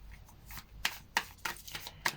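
Tarot cards are shuffled and drawn up close, making quick papery riffles and several sharp, separate snapping taps in an irregular rhythm.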